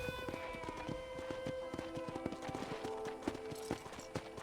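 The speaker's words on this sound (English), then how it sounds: "I picked out a fine horse for you." Horse hooves clip-clop in a quick, steady rhythm, moderately close, with light background music or ambience underneath, from the video game Red Dead Redemption.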